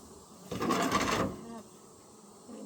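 A broad buzzing swell from a beehive of honeybees rises at about half a second, stays loud for under a second, then fades back to a low hum.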